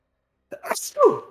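A single sharp sneeze, short and close, with a breathy build-up before the burst.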